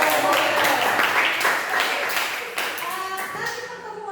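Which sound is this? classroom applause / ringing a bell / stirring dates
classroom applause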